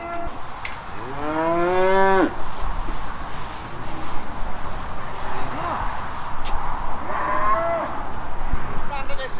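Cattle bellowing loudly during calf weaning, a long drawn-out moo near the start then fainter lowing, amid farmyard noise and people talking.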